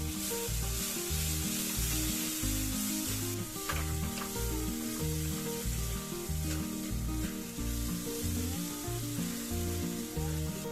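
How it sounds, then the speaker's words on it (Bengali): Turmeric, chili powder, coriander powder and salt frying in a pan for a Bengali matar paneer, a steady moderate sizzle with a few stirring scrapes, over a looping musical background and no speech. "এখন 1 চা চামচ হলুদ গুঁড়ো, 1 চা চামচ লঙ্কা গুঁড়ো, 1 চা চামচ ধনে গুঁড়ো আর 2 চা চামচ নুন দিয়ে ভালো করে কষে নিচ্ছি।"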